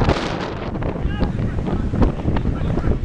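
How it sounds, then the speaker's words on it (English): Strong wind buffets the microphone at an amateur reserve-team football match on Mersea Island, a loud, continuous roaring rumble with gusty swells and faint voices in the background. "it's just going to be wind the whole, whole game"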